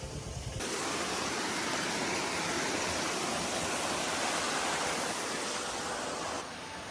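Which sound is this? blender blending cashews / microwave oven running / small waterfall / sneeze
small waterfall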